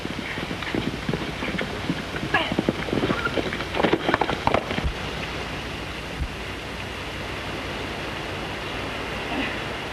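Horse hooves clip-clop in a quick irregular rhythm over a noisy background, fading after a few seconds into a steady hiss.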